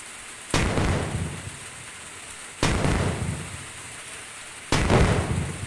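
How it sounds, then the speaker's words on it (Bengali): Cannon blasts in the India Bike 3D video game fire three times at roughly two-second intervals, each a sudden booming burst that decays slowly into a rumbling tail, loud against a quieter game background. "কামান দিয়ে ওকে পাঠিয়ে দেবো।"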